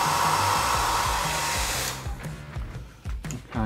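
A heat gun blows loudly and steadily while softening vinyl graphics, then cuts off about halfway, leaving quieter handling noises.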